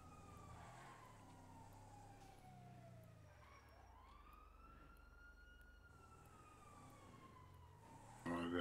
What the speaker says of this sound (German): Wer hat denn hier die Sirene die ganze Zeit an?